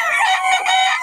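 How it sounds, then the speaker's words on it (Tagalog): Chickens and roosters at a poultry market in Bocaue, with loud, close clucking and crowing that runs continuously through the brief moment. "Daming manok ngayon dito."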